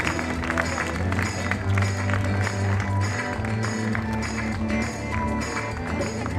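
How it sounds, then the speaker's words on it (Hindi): An audience at a Shivratri celebration and inauguration programme claps steadily and densely for several seconds, blended with music and crowd noise throughout. "सभी तालियों से"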